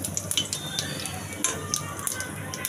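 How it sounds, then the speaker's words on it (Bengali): Cumin seeds and bay leaf sizzling in hot oil in a wok while banana koftas are being cooked, a steady close crackle with light scattered pops and faint utensil clinks, quiet and unbroken by speech. "কড়াইতে আমি এখন জিরা আর তেজপাতা ফোড়ন দিয়ে"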